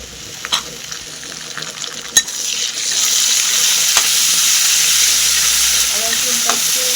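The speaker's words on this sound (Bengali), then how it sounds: "রসুনটা একটু 2 মিনিট ভাজা হতে থাক।" Ginger and garlic paste fries in a pan after browned onions, starting with a few stirring clicks and taps, then settling into a loud, steady sizzle that continues to the end.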